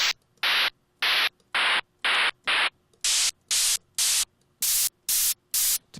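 A synthesized snare drum built from noise in the Massive synthesizer fires eleven short, evenly spaced hissing bursts, with the tone color shifting brighter and fuller partway through.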